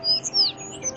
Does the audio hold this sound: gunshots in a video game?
no